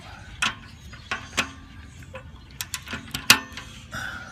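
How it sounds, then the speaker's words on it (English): Large ratchet clicking in short, uneven bursts while tightening an exhaust clamp under a Harley-Davidson FLD during a Screaming Eagle slip-on pipe install; sharp, close metallic ticks separated by brief pauses. "we're going to grab our large ratchet. We're going to get under here, tighten the clamp up"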